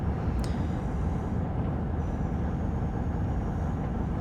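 A CrossCountry Voyager diesel train running near Ivybridge behind a GWR Cardiff service gives a steady, dense low roar from inside the carriage with no talking.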